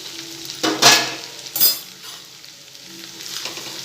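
A spoon stirring kantola (spiny gourd) sabzi as it fries in a pan gives two distinct scraping swishes over a soft, steady sizzle, with no voices.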